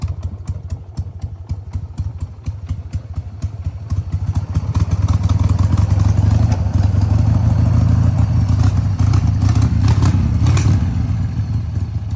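A Harley-Davidson Sportster motorcycle, a 100th Anniversary model needing a carb clean, idles without the choke, a loud, close, lumpy engine patter that grows heavier partway through and runs steadily with no talk.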